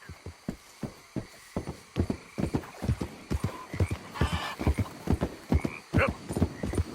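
Rhythmic clip-clop of horse hooves on a hard surface in Red Dead Redemption 2, steady paced steps with a few snorting and whinny-like sounds mixed in.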